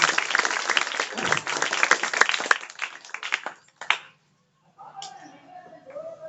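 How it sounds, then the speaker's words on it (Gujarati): A short burst of audience clapping at a school cultural programme, lively and close for about four seconds before thinning to a few scattered claps and quiet. "તાળીઓ પાડો ફરીથી."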